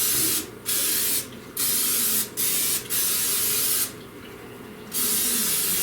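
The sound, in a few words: non-stick cooking spray sprayed into casserole dish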